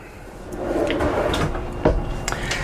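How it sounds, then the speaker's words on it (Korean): A cutlery drawer in a camper van slides open and shut nearby with a wooden rumble, ending in a soft knock as it closes. "여기는 수저 서랍."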